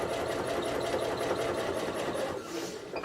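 A sewing machine runs steadily while back stitching on a simple zipper pouch, a continuous motor whir with rapid needle chatter that eases briefly near the end.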